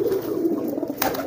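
A male racing pigeon coos in courtship, a low, throaty, rolling murmur repeated in quick pulses close to the listener, with a brief rustle near the end.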